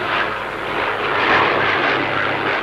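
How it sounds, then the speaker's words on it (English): A propeller plane's engine drones steadily in an animated 1960 Tintin cartoon, a loud continuous hum that swells slightly midway, with no voices. "Tintin heard a motor. It was a plane."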